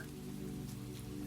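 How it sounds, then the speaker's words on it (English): Steady rain falling, a soft continuous patter with a low rumbling undertone, close and even, with no voices. "The rain became softer."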